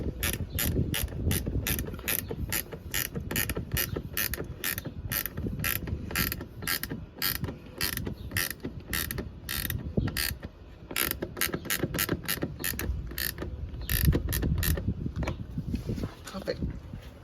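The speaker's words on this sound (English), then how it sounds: "And then you do like a ratchet" A ratchet tightens a 10mm bolt on a mud flap fitted to a 2023 Tesla Model Y Long Range, giving rapid, evenly spaced clicking that runs continuously and loud up close, with a brief pause near the end.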